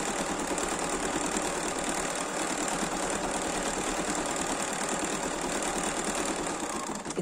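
A Bernina 780 embroidery machine hums and stitches continuously through a motif, a steady, fast, even mechanical whir with dense needle rattling that stays at the same level throughout, with no talking.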